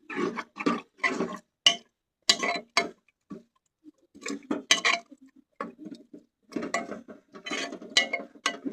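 Gram flour batter is poured into bathua greens in a pot and stirred in. Short bursts of wet clinking and scraping come close, separated by brief silent pauses.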